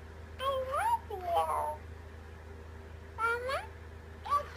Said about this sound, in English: That's just the kitty playing with the toy.